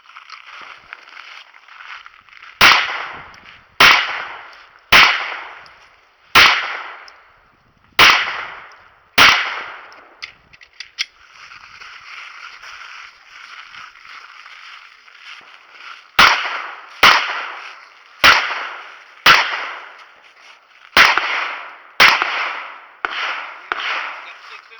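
Pistol shots ring out in quick sharp bursts at an IDPA shooting match, a string of six loud cracks, a pause with a brief click, then another rapid string of about seven shots, each with a short decaying echo.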